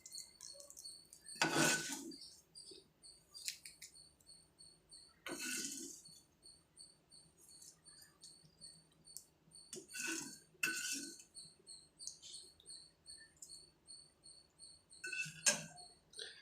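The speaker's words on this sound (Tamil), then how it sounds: "இப்போ இந்த தாளிப்பை இதில் எடுத்து கொட்டிடலாம்." Tempering is tipped from a pan and stirred into a bowl of curd and mango salad. Spoon clinks and scrapes against metal come in a few short, sparse bursts, close and fairly quiet, with no talk.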